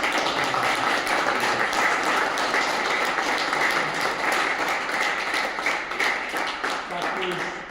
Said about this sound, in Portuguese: acho que merecem um grande aplauso para o Bruno, para o Mário